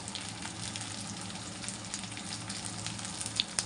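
Cumin powder and Kashmiri chili sizzling steadily in a hot pan with oil, a dense continuous frying hiss close up, with a couple of sharper pops near the end and no talking.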